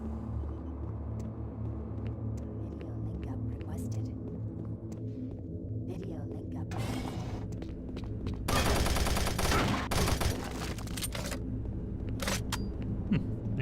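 Rapid automatic gunfire from a weapon in the video game DOOM 3 on the original Xbox, a dense burst of loud crackling shots over a steady low rumble, with someone speaking briefly around it.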